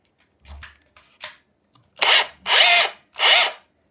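A Bosch Professional GBH 18V-22 cordless rotary hammer set to hammer-only mode fires in three short, loud, close bursts after some light handling clicks and knocks.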